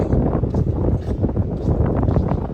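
Steady, heavy wind at a beach buffeting the microphone, a continuous low roar with gusty surges throughout and no voices.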